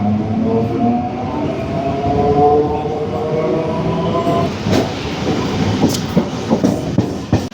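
A Chennai local electric train pulls away and rolls steadily along, its loud, continuous rumble and rail clatter building as it gathers speed, with occasional sharper clicks near the end.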